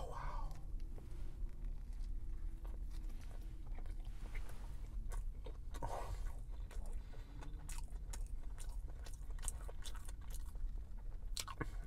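A crispy McRib sandwich bitten and chewed close up, with repeated crunchy bites and wet chewing throughout, and brief soft speech between mouthfuls.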